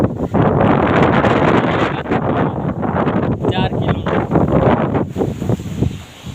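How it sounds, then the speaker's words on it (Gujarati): Strong, steady wind roars across a rooftop and buffets the microphone throughout, with someone talking over the gusts. "અત્યારે પવન બહુ ઉપડો હોય"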